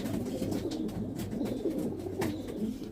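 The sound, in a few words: pigeons cooing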